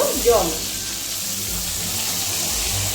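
Fish curry with potatoes sizzling in a frying pan just after salt goes in, a low steady fry with a brief scrape of stirring at the start.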